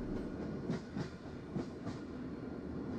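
A train in a Russian train simulator video game slows as it arrives, giving a low rumbling roll with a few soft rhythmic wheel clacks, fairly quiet and steady, with no voices.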